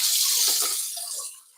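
Water drains off freshly cooked green beans in a brief splashing pour, loud at first and then tapering away within a second or so.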